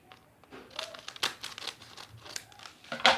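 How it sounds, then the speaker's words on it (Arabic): A plastic bag of sour candy is pulled open, making scattered crinkling and crackling bursts of plastic close by. The loudest crumple comes at the very end. "الحين فتحت كيسي، بنفتح كيس طه."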